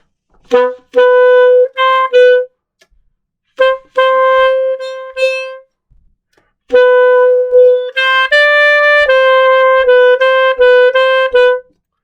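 An alto saxophone plays short, clean notes in separated rhythmic phrases with pauses between them, loud and close, with no talking.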